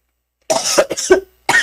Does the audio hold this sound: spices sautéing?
no